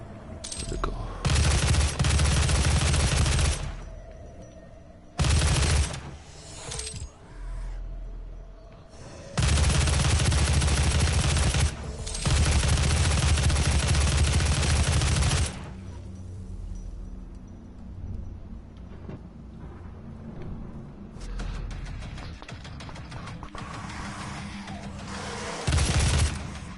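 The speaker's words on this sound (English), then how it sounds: "Right, assault rifle." Assault rifle fire in the DOOM video game: long, loud sustained bursts of automatic gunfire broken by short pauses, then quieter stretches of softer game sounds near the end.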